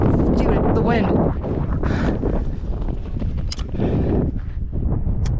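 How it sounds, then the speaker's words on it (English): Strong wind blows across the microphone outdoors at Arches National Park, a loud continuous buffeting roar with a person exclaiming and talking over it. "Oh, dude, the wind."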